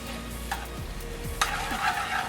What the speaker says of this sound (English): I'm going to gently stir the butter into the sauce